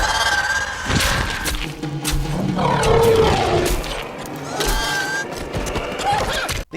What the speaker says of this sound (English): The Acklay's sound was synthesized from sounds of a dolphin and a pig